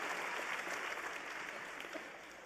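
Audience applause for scholarship-winning seniors at a high school graduation ceremony, a dense, steady wash of many hands clapping that fades slightly toward the end.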